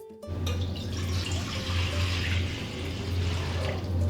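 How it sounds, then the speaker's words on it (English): Water pours steadily into a cooking pot, a continuous splashing gush lasting several seconds, close and fairly loud, with no talking over it. "Go ahead and pour it right in our pot."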